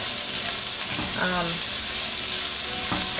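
Chopped onion fries in a pan with a loud, continuous sizzle and hiss, broken by brief stirring noises up close.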